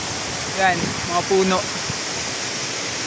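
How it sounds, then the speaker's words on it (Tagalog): Steady rushing roar of Caballo Falls waterfall, continuous broadband water noise throughout, with a person speaking briefly over it. "Mga guys, nandito na tayo sa falls."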